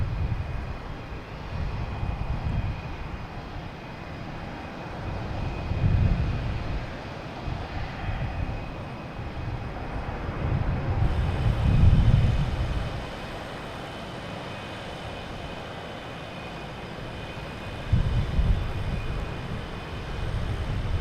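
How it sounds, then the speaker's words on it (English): American Airlines airliner from Chicago landing at Boston Logan Airport, a low, steady engine rumble with gusty swells that rise around the middle, heard from a distance with no talk. "I have an American Airlines coming in from Chicago."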